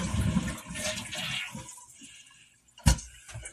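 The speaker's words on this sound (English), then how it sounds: "Hopefully, it'll flush down." A clogged home toilet flushes on Thanksgiving, with a loud rushing swirl of water at the start that fades to a quiet trickle. A sharp knock and splash come near the end.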